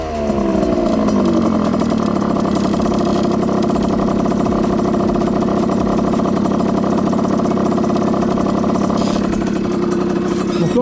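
A Beta 50 moped engine runs steadily throughout, a loud, continuous buzzing two-stroke drone with a slight pitch swell at the start, held close by without talk.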